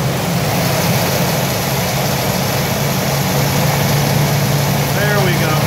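A carbureted 1989 Jeep Wrangler engine idles after a cold start, a steady low rumble with a continuous hum and a broad hiss, running evenly throughout.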